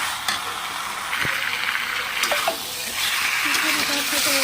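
Chicken being sautéed (kosha) in a pan, cooked village style, gives a steady, close frying sizzle with spatula stirring and occasional scrapes, continuous throughout.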